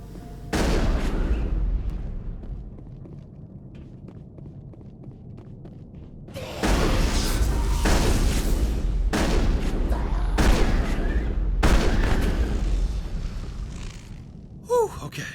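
Rapid bursts of gunfire from Mass Effect 1 combat aboard the derelict ship MSV Cornucopia, loud and close, with repeated volleys and pauses between them and breathy sighs in between.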